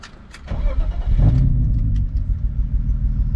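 A BMW E36 with a misfiring engine, driven on the road: engine noise swells after about half a second, then holds a steady, close, rough drone to the end with no voices.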